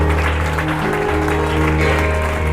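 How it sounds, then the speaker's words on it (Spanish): Church congregation applauds loudly during a sermon service, dense clapping layered over sustained music with steady low tones throughout. "aplauso al Rey"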